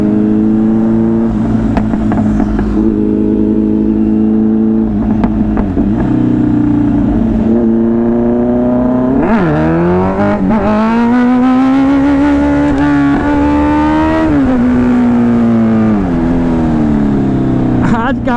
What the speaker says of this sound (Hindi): आज काफी दिन के बाद व्हीली बज रही है, एकदम लंबी लंबी व्हीली।